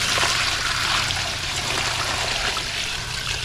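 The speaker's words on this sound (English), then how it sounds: "we'll just transfer the water in there" Water pours steadily from an old dirty bucket into another bucket outdoors, a loud continuous splashing stream that runs unbroken and close by.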